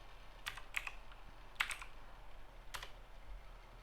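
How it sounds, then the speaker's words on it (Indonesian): Keys on a Windows computer keyboard are pressed in a few sharp, separate clicks with short pauses between them, close and fairly quiet in an otherwise still room. "kita bisa mengklik menekan pada keyboard bentuk Windows"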